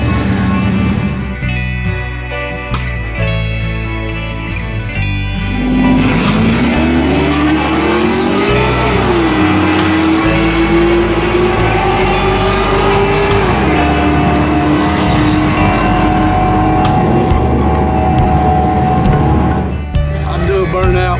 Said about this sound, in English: I'm doing burnout